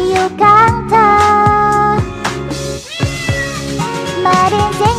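A singing voice imitates a cat's meows in a Thai-language version of a pop song, with repeated sung meow phrases riding loud over bright, rhythmic backing music throughout.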